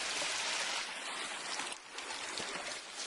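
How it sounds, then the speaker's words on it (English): A small river stream in the High Sierra gives a steady, close rushing and trickling hiss with no voices. "So here's the river."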